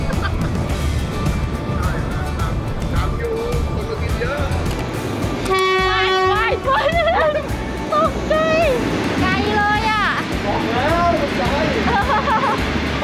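A train horn sounds as the train arrives at the station on a seaside trip to Chumphor, Thailand, giving a long steady toot followed by several wavering horn calls over busy background noise and talk.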